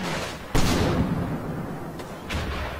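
Mortar fire in the World War II game Combat Mission Fortress Italy, near San Pietro: one heavy, booming launch, then a rumbling tail and two lighter thumps further off, with no speech.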